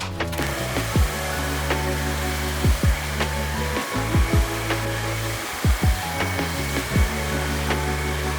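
Heat gun blowing a steady airy roar while shrinking tubing around a 48 volt 51 amp hour lithium-ion battery pack, with repeated short clicks and pitch sweeps as the gun is handled or switched, close and continuous.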